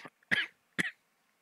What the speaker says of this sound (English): it turns out I'm going to be coughing a lot